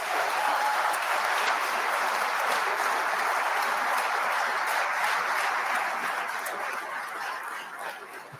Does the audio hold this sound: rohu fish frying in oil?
no